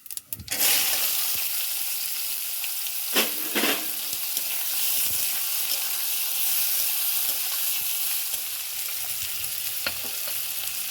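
Chopped onion tossed into hot oil with whole cumin and halved bay leaves, a loud burst of sizzling on impact that settles into a steady frying hiss, with a few scraping stirs of a spatula in the pan.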